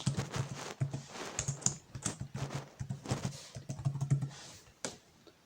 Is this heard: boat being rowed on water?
no